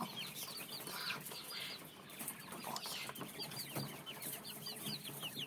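Incubator-hatched chicks peep constantly, with many small overlapping chirps at a fairly even level and no talking.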